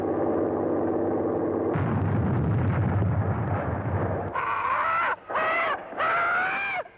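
Gunfire during the August 19th resistance uprising in World War II, heard as loud, dense bursts and blasts, followed by wailing siren-like tones that rise and fall, with no talking.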